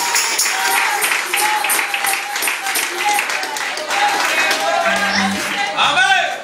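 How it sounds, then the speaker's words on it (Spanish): Church congregation clapping in rhythm at an inauguration service, a steady run of even claps under sung hymn voices, with a few louder claps near the end. "Dele palmas al Señor"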